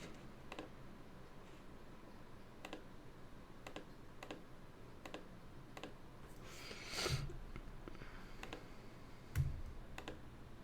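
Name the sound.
typing on a computer keyboard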